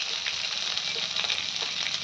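Long beans frying plain in hot oil with cumin, a dried red chili, salt, turmeric and slit green chilies, giving a steady close sizzle and crackle with faint stirring taps and no voices.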